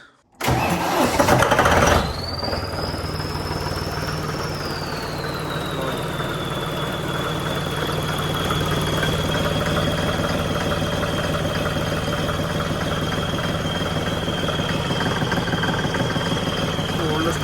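A tractor engine cranks with a brief burst, fires up and then settles into a loud, steady idle, with a rising whine that eases into a constant hum as it runs, close up; a voice can be heard at the start.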